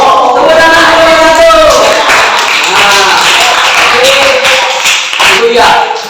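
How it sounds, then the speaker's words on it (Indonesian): A classroom group claps and cheers together, brief rhythmic applause mixed with excited voices and a teacher speaking over it, loud and close. "Tepuk tangan kelompok"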